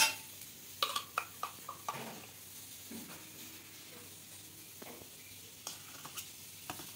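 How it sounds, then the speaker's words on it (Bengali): Hot ghee spooned over a simmering vegetarian potato and soybean curry, giving a soft steady sizzle punctuated by several sharp spattering crackles and light clinks of a spoon against the pan. "এবার এর উপর দিয়ে 1 চামচ মতো ঘি দিয়ে দেবো।"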